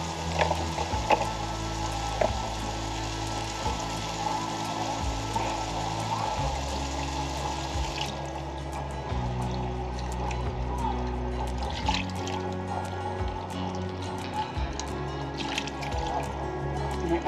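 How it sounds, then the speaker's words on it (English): Beef broth poured into a pot over a campfire for beef stroganoff: a soft steady trickle and splash at close range, then lighter drips and small knocks as the flow eases. "We got add our beef broth."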